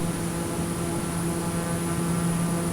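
A TBM turboprop on its takeoff roll at Mariposa in the Sierra foothills gives a loud, steady engine and propeller drone with a constant whine, filling the whole cabin without a break.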